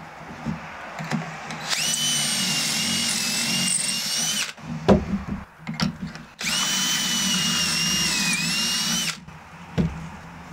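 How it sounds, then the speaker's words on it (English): A drill bores pocket holes into wood for an antique bookshelf restoration, two loud, sustained whining bursts of several seconds each, separated by clunks and brief handling knocks, close and without speech. "Now I have to go ahead and start pocket holing all these and getting them ready to assemble."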